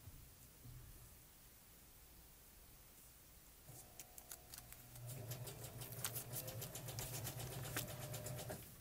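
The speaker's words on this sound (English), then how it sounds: "that's a sewing machine in the background." A faint whir starts partway through and grows into a steady mechanical hum with rapid ticking, a sewing machine running in the background of a card-making session.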